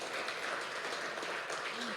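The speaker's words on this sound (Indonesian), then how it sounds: "Berikan tepuk tangan yuk bagi Tuhan." A church congregation claps in praise during a sermon, dense broadband applause sustained steadily throughout, fairly loud and even, with faint voices mixed underneath.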